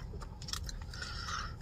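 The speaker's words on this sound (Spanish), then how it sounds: "Yo con lo que hago lo más ruido es con el chicle" Someone chews gum close to the microphone, giving soft, wet smacking clicks in an irregular rhythm over a quiet background.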